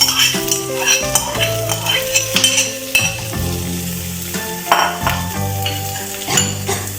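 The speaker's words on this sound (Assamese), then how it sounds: "এতিয়া তাতে আপুনি আলুখিনি ঢালি দিব।" Potatoes poured into a pan of frying onions while making masala dosa filling, giving a loud sizzle mixed with repeated stirring scrapes and utensil clinks against the pan, busy and close with no speech.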